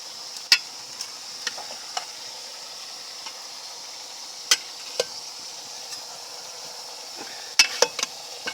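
Chicken tinola is stirred in a cooking pot, with sparse, sharp clinks and scrapes of a utensil against the pot over a faint, steady simmering hiss, close and without talk.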